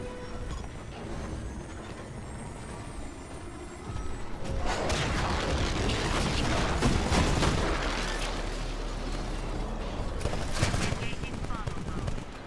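An outpost cannon array in Titanfall firing on the Sentinel warship: a quieter rumbling start, then from about four seconds a sustained loud barrage of rapid shots and blasts, with voices heard through parts of it.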